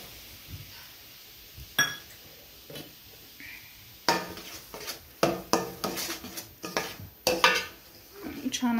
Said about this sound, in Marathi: छान असं परतून घ्यायचं।